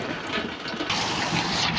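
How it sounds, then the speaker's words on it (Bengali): Heavy rain pours down in a dense, steady roar of hissing water, close and fairly loud, with no voices over it. "প্রচুর বৃষ্টি।"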